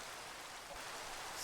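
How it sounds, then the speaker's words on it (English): Steady, quiet hiss of rain falling in Minecraft, an even wash of noise with no other sounds. "it's raining."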